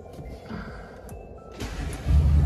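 An Audi S4 diesel engine cranks and catches, rising into a low steady idle after a couple of seconds, heard from inside the vehicle.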